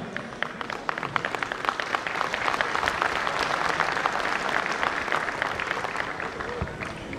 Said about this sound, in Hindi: बड़े सोच सोच के तालियां मार रहे हो